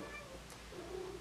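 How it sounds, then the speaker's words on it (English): A domestic cat meows near a door, a couple of short close calls heard indoors. "it's my cat."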